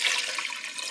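Water pouring into a pot of leftover soup for making seitan, a steady bright hiss of running liquid that stays fairly loud and even for about a second with no voices.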